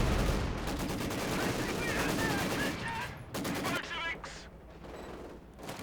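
Gunfire rattles through a Company of Heroes 2 battle as an MG42 and LMG Grenadiers fight off assaulting conscripts: dense, continuous bursts of machine-gun and rifle fire, fairly loud, with a brief lull and a few sharper reports near the end.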